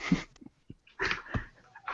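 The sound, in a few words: pack of Death Dogs in a video game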